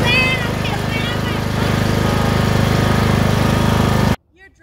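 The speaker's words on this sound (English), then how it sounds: "You're driving the lawnmower?" A Cub Cadet riding lawn mower engine runs close by with a steady, loud mid-pitched drone and rhythmic pulsing, then cuts off abruptly near the end, leaving near silence. A voice rises briefly at the start.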